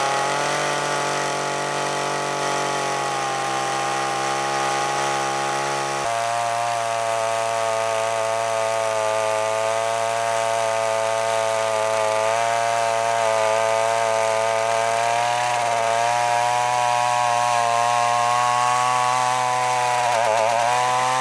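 A large chainsaw runs continuously at high throttle, its buzzing pitch shifting slightly as it bites into backyard tree wood, loud and close with no voices.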